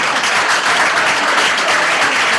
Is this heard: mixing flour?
no